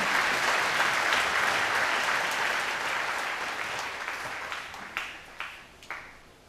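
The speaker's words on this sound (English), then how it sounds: "Clap for Jesus. Acclamons pour Jésus." A church congregation applauds for Jesus in dense, sustained clapping that slowly thins out, ending in a few scattered louder claps near the close.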